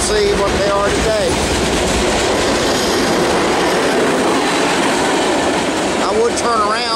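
Norfolk Southern freight train 118 rolls past on the Piedmont Division near Charlotte, a loud continuous rumble with clattering wheels and brief squeals, close and steady throughout.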